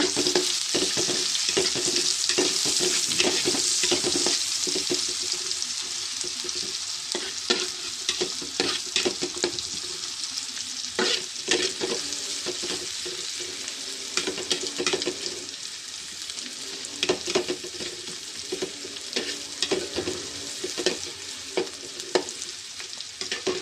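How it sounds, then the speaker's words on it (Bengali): Chopped onion fries in a pan for a tangra fish curry, a steady loud sizzle broken by frequent scraping, clattering stirs of the spatula throughout. "পেঁয়াজটা একটু ভেজে নেব"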